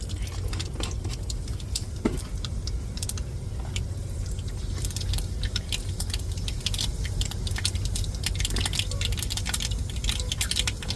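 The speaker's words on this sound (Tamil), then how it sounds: "நம்ம கடுகு உளுந்து சேர்த்துக்கிடுவோம்." Mustard seeds and urad dal crackle in hot oil, making a dense, continuous scatter of small pops and sharp ticks that stays quiet and close, with no talking.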